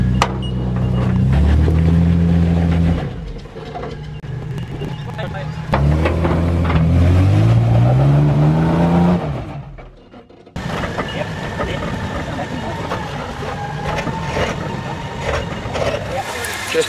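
Toyota LandCruiser 100 series 4x4 engine labouring off-road over rocks on a technical track, loud and close, with rising revs in surges, a brief quieter pause, then steady rumbling with people talking nearby.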